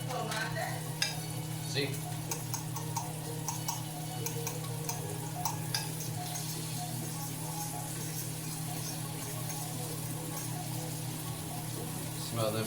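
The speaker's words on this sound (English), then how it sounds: "Smell them onions cooking up." Onions frying with rice in a hot pan give a steady sizzle with scraping stirs throughout, under a constant low hum; a voice speaks briefly.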